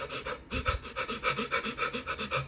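A person demonstrates rapid, shallow panting breaths, about a dozen evenly spaced huffs in quick rhythm, close and clear with no other sound.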